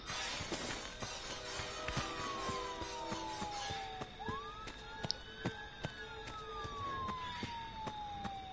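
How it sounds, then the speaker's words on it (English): Police sirens wail inside the Friday the 13th video game, a single rising and falling siren tone sweeping at moderate distance amid scattered sharp game clicks and impacts. "You hear the sirens and then you just follow them."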